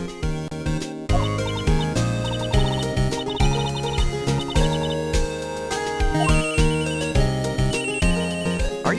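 A phone ringtone from the video game Phoenix Wright: Ace Attorney plays as a bright, looping electronic melody, loud and continuous with steady rhythmic notes and no talking over it.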